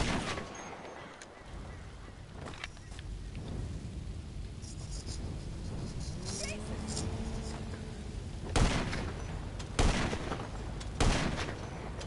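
Several sharp, loud rifle shots near the end, heavy reports in the Grand Theft Auto V video game fired in first person, over a rumbling game background.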